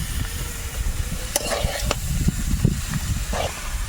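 Shredded cabbage frying and being stirred in a pan, a steady close sizzle with scraping spatula strokes throughout.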